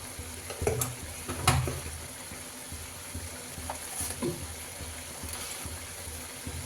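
Peas chaat mixture bubbling in a pan on the stove, with a steady low simmer and a few sharp clinks and scrapes of a spoon stirring it, close and fairly quiet.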